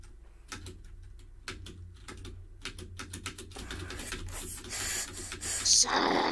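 A computer keyboard's spacebar is tapped rapidly and repeatedly during a Roblox Bed Wars game, giving close, clicky bursts of keystrokes that grow busier, mixed with game sounds toward the end.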